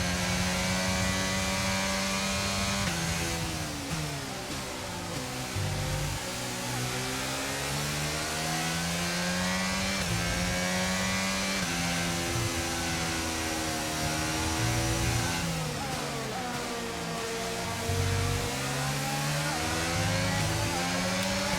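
Formula One race cars in the F1 22 video game roar continuously through an overtaking attempt, engines rising and falling in pitch with gear changes and revving, loud and close throughout with no talking.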